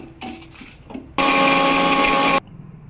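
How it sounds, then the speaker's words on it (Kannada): A kitchen mixer grinder whirs at high speed grinding roasted spices for rasam powder, a loud steady motor roar lasting just over a second after some quiet handling clatter, then cutting off sharply. "ಈ ಎಲ್ಲ ದಿನಸುಗಳನ್ನ ಮಿಕ್ಸಿ ಜಾರ್ಗೆ ಹಾಕಿ ಗ್ರೈಂಡ್ ಮಾಡ್ಕೋಬೇಕು ಚೆನ್ನಾಗಿ ಸಣ್ಣಗೆ."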